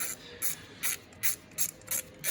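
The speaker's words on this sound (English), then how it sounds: "So this is a 1/4 inch ratchet." A 1/4 inch ratchet tightens bolts on the water pump of a 2007-2011 Toyota Camry 3.5, clicking in six short, evenly spaced bursts of pawl ratcheting, close and clear with no talk.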